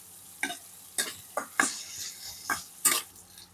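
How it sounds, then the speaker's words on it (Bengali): Chopped onions fry in a pan for a Bengali fish curry, with quiet sizzling underneath and a handful of sharp scraping stirs at irregular intervals, each brief and fairly close. "এরপরে এই পেঁয়াজ কুচিগুলোকে হালকা লাল লাল করে ভেজে নেবো।"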